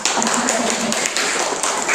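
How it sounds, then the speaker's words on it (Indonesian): A classroom bursts into applause for a student, with many hands clapping in a dense, steady patter that lasts about two seconds at close range. "Tepuk tangan buat Reta."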